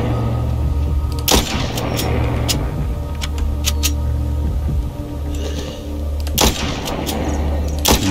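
Gunfire in The Walking Zombie 2 video game, two loud sharp shots several seconds apart plus a few lighter pops, over a steady low background hum.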